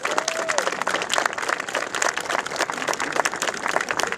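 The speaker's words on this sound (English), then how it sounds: "Let's give them a great big round of applause." An audience at a high school groundbreaking ceremony applauds the facilities committee, a dense, continuous wash of many hands clapping that holds steady and fairly loud for several seconds.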